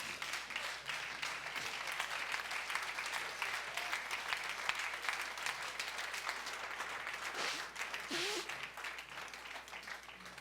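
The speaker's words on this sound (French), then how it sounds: "Donnons une bonne main acclamation." A church congregation applauds near the close of a worship service, a fairly quiet but continuous patter of many hands clapping, with a few voices rising briefly near the end.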